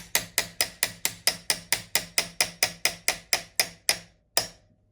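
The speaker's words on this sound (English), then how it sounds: "proceed to hammer on through." Rapid, evenly spaced metallic hammer strikes ring out on a busted billet part of a Rovan Max 5T RC car, about sixteen blows in a steady rhythm, then a pause and one final hit.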